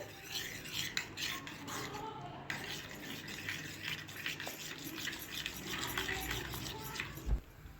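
Spices and potatoes are stirred in a pan with steady scraping and clinking of a spoon against metal. The sound is close and continuous, with one louder knock near the end.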